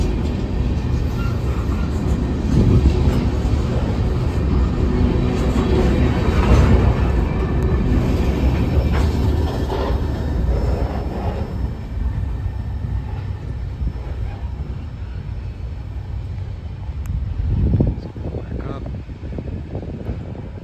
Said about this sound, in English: that was M604. The northbound mixed train from Winston Yard